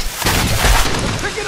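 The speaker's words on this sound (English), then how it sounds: "How did that guy not die from the acid explosion?" An acid explosion in the multiplayer shooter Aliens: Colonial Marines erupts as a loud, dense burst of noise lasting about a second and a half, with a deep rumbling thud under a broad hissing wash.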